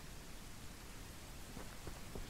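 Steady rainfall in the farming video game Ranch Simulator, a soft, even hiss of drops with a few faint pattering accents, quiet and continuous with no talk.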